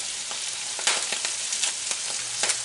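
Kale and garlic sauteing in a pan, a steady close sizzle with several soft scraping stirs spread through it, no talking.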